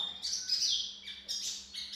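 A white-rumped shama sings close and clear, a few high bright chirping phrases in quick succession over a quiet background.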